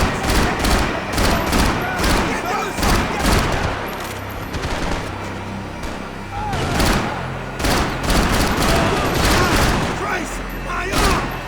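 Gunfire rattles through a Max Payne 3 firefight, with repeated bursts and single loud shots cracking close in irregular clusters and thuds between them, as voices shout over the shooting.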